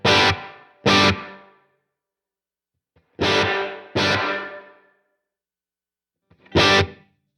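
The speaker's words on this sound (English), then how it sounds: "So let's go over to the reverb, check that out." Loud distorted electric guitar chords through a Neural DSP Nano Cortex with reverb are struck in short bursts, each ringing out and decaying into silence, with gaps between groups of strums.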